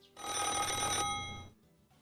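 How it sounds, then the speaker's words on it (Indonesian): A telephone bell rings in one loud, sustained metallic trill lasting about a second, then fades out, heard alone and close in an anime scene. "ia terbangunkan oleh suara deringan telepon yang berada tepat di sebelahnya"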